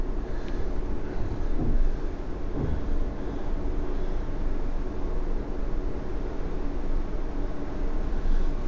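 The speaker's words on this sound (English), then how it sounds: "You can hear the sound of the waves on the shore just a few yards outside the window." Sea waves wash onto a shore a few yards outside a window on Lanzarote, a steady broadband rush with soft swells, continuous and fairly loud with no talking.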